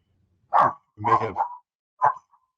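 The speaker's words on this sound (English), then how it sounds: "My dogs are going crazy, so forgive." Dogs at a house bark at a FedEx delivery truck paused out front, with three loud, close barks in separate bursts and quiet gaps between them.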